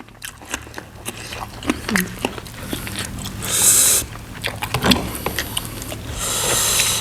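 Crunchy biting and chewing of spicy squid doused in hot chili sauce, close up, with repeated crisp crunches and wet mouth sounds over a steady low hum, with brief bursts of noise in between.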